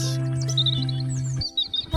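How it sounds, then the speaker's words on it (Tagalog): Birds chirp and tweet over a rice field in Binalbagan, Negros Occidental, with short high calls at moderate distance above a steady low hum. "tingnan nyo may mga ibon mo dyan guys"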